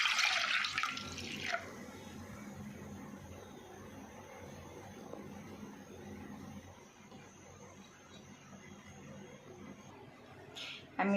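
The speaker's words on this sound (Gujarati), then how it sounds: "આ મેં બીજી તપેલીમાં પાણી નાખી દીધું છે।" Jaggery water is poured from one cooking pot into another, a soft, continuous liquid trickle and splash running for several seconds, with a brighter spill at the start and a light clink near the end.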